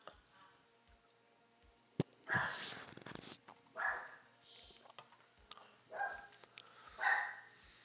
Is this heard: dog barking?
yes